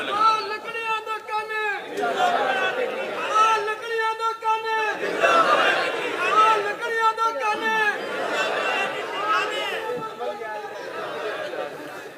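An audience at a religious sermon chants slogans together in loud, rhythmic bursts of unison voices, each call rising over a steady crowd murmur, repeating several times through the hall.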